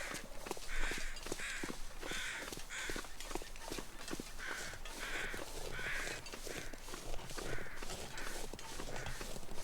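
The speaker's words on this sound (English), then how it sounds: "And I hear crows." Crows caw repeatedly in the snowy wilderness of the survival game The Long Dark, Stalker Mode, with harsh calls recurring at a steady rhythm over constant crunching footsteps.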